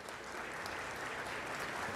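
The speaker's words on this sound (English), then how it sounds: "Can I ask you to give them a big round of applause?" An audience at a finance and technology forum claps in dense, sustained applause that fills the whole moment, steady and moderately loud.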